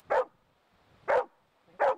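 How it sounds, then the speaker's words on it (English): A detection dog trained to find aquatic invasive mussels barks its alert at a sample: three sharp, close barks spaced evenly about a second apart, with quiet between them. "This barking lets handler Deb Tiermenstein know an aquatic invasive mussel is present."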